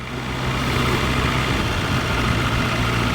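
A BMW S1000 RR motorcycle engine idles steadily and close by, with a constant low rumble that holds level and does not rev or change through the whole stretch.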